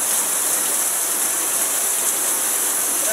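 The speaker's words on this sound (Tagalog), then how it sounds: "Grabe kakusog sa uwan, guys." Heavy rain pours down in Cabalian as a loud, unbroken hiss of dense drops, constant and close for the whole stretch.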